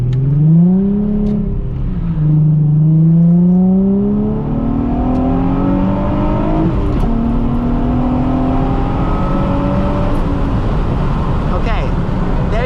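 A Nissan 350Z engine revs up through the gears, its pitch climbing, dropping at a clean shift, then climbing again, loud and close from inside the car with road noise underneath and a voice talking over it.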